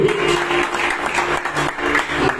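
A church congregation applauds the preacher, a dense, steady wash of clapping from many hands under a sustained hum, with a voice faintly heard beneath it.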